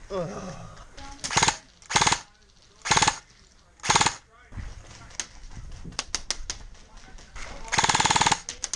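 Arcturus AK airsoft electric gun fires bursts during an outdoor game, several loud rattling strings close by, followed by scattered distant shots and brief voices.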